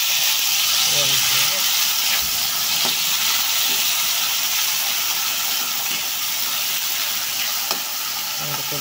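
Tomato and ampalaya (bitter melon) sautéing in a hot pan, a continuous loud sizzle and hiss with occasional stirring scrapes, and a voice talking briefly over it.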